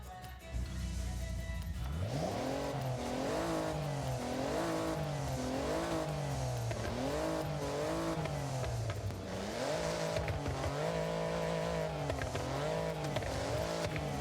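A car's engine exhaust revs hard in the video game Forza Horizon 5, rising and falling in repeated accelerations and gear changes, loud and continuous, alone with no voices.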